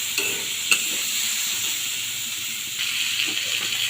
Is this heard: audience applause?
no